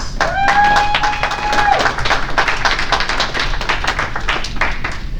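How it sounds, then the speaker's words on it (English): Audience applause for Red Thomas at a CyberDEF Dojo security talk, a burst of claps and taps close by with a few whoops or whistles over it early on, steady for several seconds. "please give him a round of applause"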